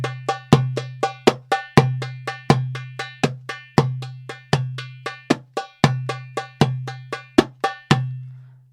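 A darbuka plays the Khaliji rhythm very slowly, alone and close, with deep resonant doum strokes and sharp ringing tek hits spaced in a steady, unhurried cycle.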